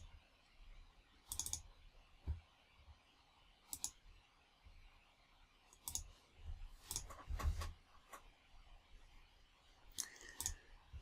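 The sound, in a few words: mouse clicking in 3shape dental design software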